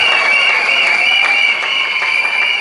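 Guests at a civil wedding ceremony applaud after the vows, a loud, steady wash of clapping throughout with a bright, ringing tone behind it.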